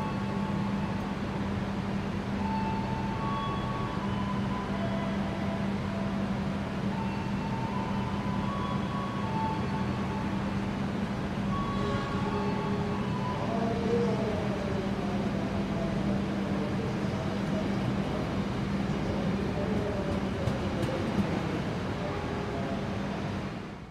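A Pasundan economy passenger train stands at Tasikmalaya station, giving a steady low engine hum with faint tonal whines and background station noise throughout, no speech.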